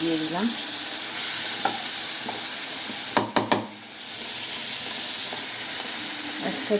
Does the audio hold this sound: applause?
no